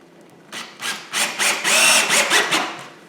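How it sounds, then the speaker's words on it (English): A power drill drives thin screws into wood to fix parts of a folding staircase, several short whirring bursts close by that rise and fall, with no talking. "so I'm actually screwing this in place instead."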